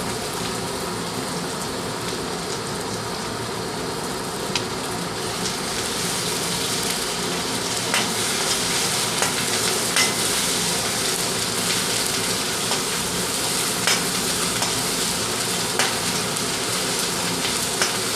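Ginger paste and onions frying in oil in a pan for a chicken curry, giving a steady, even sizzling hiss with scattered small crackles throughout, close by and with no talking.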